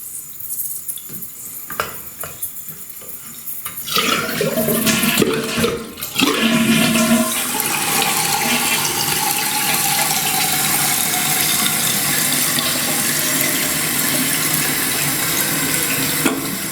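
A few clicks and handling noises, then a toilet flushes with a loud rushing gurgle, followed by steady hissing water refilling the tank through a Fluidmaster 400A fill valve.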